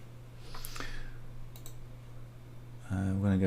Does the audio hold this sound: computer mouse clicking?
yes